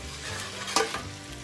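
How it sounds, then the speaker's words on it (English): Peppers and aubergines sizzle as they fry together in a pan for Sicilian caponata. A steady close crackle runs throughout, with a brief louder burst of stirring partway through. "So I'm going to get that frying a little bit."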